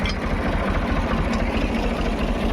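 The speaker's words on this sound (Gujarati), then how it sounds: "હાલો રાખીને ટ્રેક્ટર આગળ લઈ લઈશ" A tractor engine idles steadily close by, a low, even diesel rumble with a regular throb and no voices.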